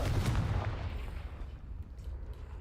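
Fire blast spell in the game Hogwarts Legacy, a loud booming explosion up front that rumbles and fades into a low decaying tail, with no talk.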